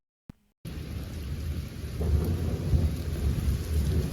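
Thunder rumbles continuously through a frequent lightning storm in the United Kingdom, a deep rolling roar that swells louder partway through over steady rain, after a brief click and a moment of silence at the start.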